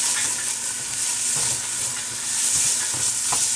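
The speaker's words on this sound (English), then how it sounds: "As the garlic sizzles a bit, becomes very aromatic" Steady, loud sizzling of garlic and mirepoix frying in a hot pan, with occasional stirring clinks and scrapes; no voices.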